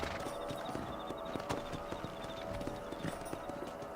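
Steady hoofbeats of a horse trotting in Red Dead Redemption, continuous rhythmic clip-clop at moderate distance over a constant background hum.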